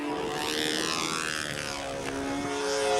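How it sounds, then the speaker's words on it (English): A model airplane on its first practice flight drones with a buzzing engine whose pitch slides and shifts as it passes, moderately loud over a steady background, with no voices. "Hal Gleason, first practice flight"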